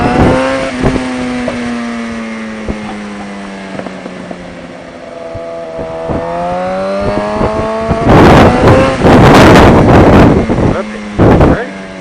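A motorcycle on a parkway rides past, its engine a steady drone that climbs through shifts before a loud roaring burst of passing noise with wind buffeting, while people talk in the foreground.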